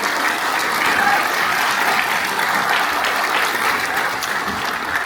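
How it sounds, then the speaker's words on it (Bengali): Dense, steady applause from a seated audience at a storytelling meetup, continuous clapping from many hands that holds at an even, loud level throughout. "সবাই একটু জোরে হাত তালি দিয়ে"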